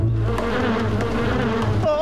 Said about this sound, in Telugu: తేనెటీగ వచ్చింది